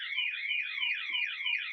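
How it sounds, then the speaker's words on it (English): A house alarm sounds with a steady warbling electronic tone that rises and falls continuously, moderately loud and alone. "now my wife is setting off the house alarm"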